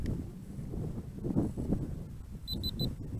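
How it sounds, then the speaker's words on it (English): Three short high-pitched electronic beeps in quick succession near the end, faint, from a Bayang Toys X-16 drone's GPS unit, over low rumbling handling noise. "There's the beep."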